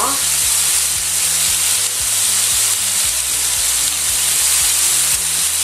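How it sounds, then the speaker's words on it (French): Chicken strips searing undisturbed in a hot pan for basquaise-style chicken, giving a loud, steady, close sizzle and crackle that runs without a break, with a low rhythmic hum underneath. "Je la laisse bien saisir"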